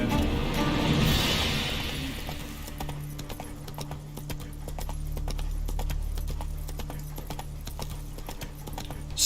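Roach, the horse in The Witcher video game, gallops with a continuous rapid clatter of hooves over a low rumbling game ambience, close and steady throughout.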